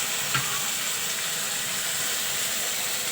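Curry leaves and coriander hit hot tempering oil for a vegetable dish, producing a continuous hissing sizzle with a brief sharp crackle near the start, close and fairly loud.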